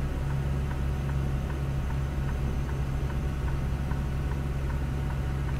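A Freightliner Cascadia truck in American Truck Simulator gives off a steady, faint ticking in a regular rhythm over a constant low engine drone, close and continuous throughout.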